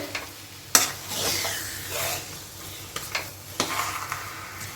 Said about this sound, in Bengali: এবার আবার সুন্দর করে মিশিয়ে নেব ওপর নিচ করে